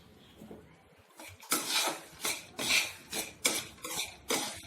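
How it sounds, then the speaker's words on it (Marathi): Masala peanuts being stirred with chaat masala in a pan, close metallic scrapes and clatters in a fairly regular rhythm, about one every half second. "हे सर्व व्यवस्थित मिक्स करून घ्यायचं आहे आपल्याला"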